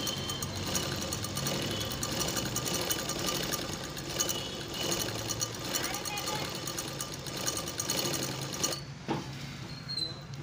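Sewing machine stitching through a single layer of cloth, a fast, steady mechanical chatter running continuously before stopping near the end, fairly close.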